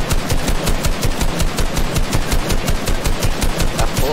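Rapid machine gun fire in a shooter video game, a fast steady burst of evenly spaced shots running continuously and loudly throughout.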